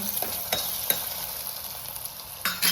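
Potato and green chillies fry in a pan with a steady close sizzle, broken by several sharp scrapes and clacks of a spatula stirring.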